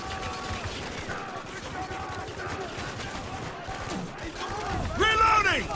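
Shotgun blasts and gunfire in the Spec Ops: The Line shooter, a dense firefight under shouted voice lines and a rising burst of louder shots near the end.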